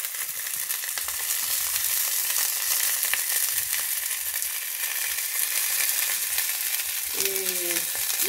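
Plantain bananas toasting over low heat and being turned now and then give off a steady, close sizzling crackle, with brief scraping and stirring sounds near the end.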